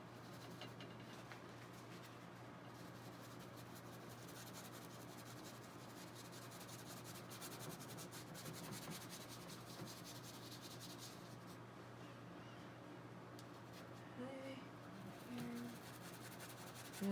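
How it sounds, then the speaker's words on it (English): A brush scrubs paint onto a surface in a soft, continuous rasp of short strokes. It is faint and close, with no voices. "I love that sound of scrubbing with the brush."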